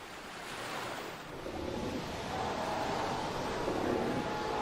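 Sea waves breaking along the coast, a continuous roaring surge that swells slightly louder toward the end, with wind buffeting the microphone and no voices.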